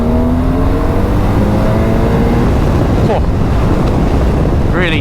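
A 2024 BMW R 12 nineT motorcycle pulling hard under acceleration, its engine note loud and close, heavily buffeted by wind rush, with a voice briefly audible.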